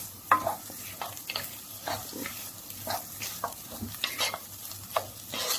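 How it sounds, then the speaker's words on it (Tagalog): Rice is stirred and fried with sautéed onion in a pan, making a soft continuous sizzle with frequent scraping and clinking stirs throughout. "igisa natin ang ating onion guys susunod na natin ang ating rice haluin natin"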